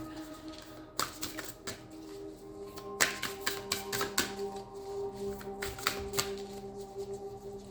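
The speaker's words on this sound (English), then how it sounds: "Hard to shuffle because the cards are huge" A large deck of oversized cards is shuffled by hand, with bursts of riffling clatter and soft taps, close up and fairly quiet, with no talking.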